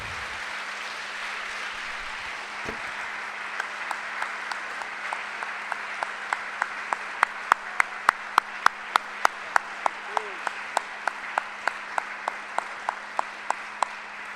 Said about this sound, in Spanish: Vamos a darle un aplauso al Señor por ese gran día.